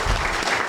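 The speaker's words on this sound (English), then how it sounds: "A big round of applause for MMC." Brief, loud audience applause at a county council candidate forum, a dense wash of many hands clapping at once.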